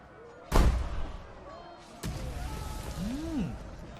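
Cannon fire from the siege game Siege the Day thuds in two sharp, booming blasts a second and a half apart, each followed by rumbling decay, with a brief rising whistle afterward.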